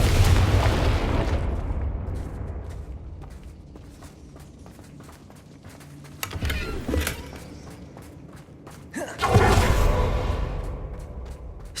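A Confringo blasting spell explodes in Hogwarts Legacy, with booming bursts near the start and a louder blast near the end, over game ambience and footsteps.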